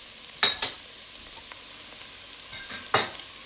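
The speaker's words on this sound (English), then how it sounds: "so I'm gonna add the squash into here now" Squash dropped into a pot of simmering goat stew and stirred: a few soft, quick clatters and scrapes, separated by pauses, over a faint low sizzle in a quiet home kitchen.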